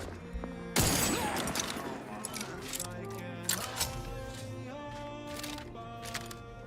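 Gunfire in The Outer Worlds 2, a sudden loud burst followed by a few scattered shots and impacts over game ambience and a faint voice.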